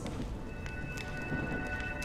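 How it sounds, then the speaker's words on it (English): Steady rainfall in the Honkai: Star Rail video game, a soft, even hiss of falling drops with a few faint sharper patters, quiet and continuous with no voices. "When will this rain ever stop?"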